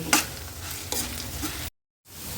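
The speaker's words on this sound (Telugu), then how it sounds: "అన్నీ అలా దోరగా వేగించేయండి పోపు ఎగుతుంటే అలా కమ్మటి వాసన వస్తుందండి" Spices tempering in a pan for ginger pickle, with sharp bursts of popping and sizzling over a steady fry, a couple of louder crackles, then a brief silent gap before the sizzle resumes.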